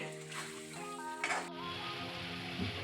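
Boiled ridge gourd pieces being stirred into hot oil and masala in a pan give a steady close sizzle with a brief louder burst of stirring midway. Faint steady tones sit underneath.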